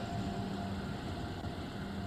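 Steady rumble and rolling hum of a train on the NEC line between New York and Trenton in Train Sim World 3, continuous and moderately loud with no voices.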